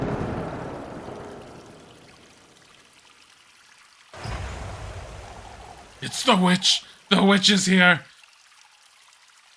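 Water pours steadily onto a floor in the video game Little Goody Two Shoes, a broad rushing wash that fades over several seconds, then a fresh splash, with excited voices shouting over it near the end.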